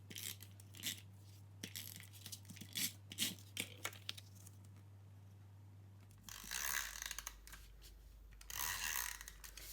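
Cardstock card bases being joined with tape: a string of short, crisp ratcheting and tearing strips, fairly quiet, with a steady hum under the first part and louder broadband rips toward the end. No talking.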